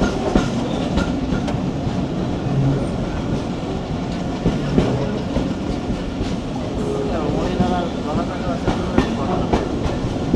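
Tungipara Express rolling past Madhukhali rail station, a steady rumble of wheels and carriages with faint clicking of rail joints heard from on board, with some talk over it.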